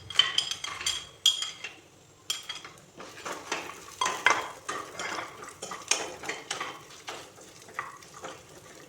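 Cashews and raisins fry on a low flame in a pan for fried rice, a soft sizzle under repeated sharp scrapes and clinks of a metal spoon stirring against the pan.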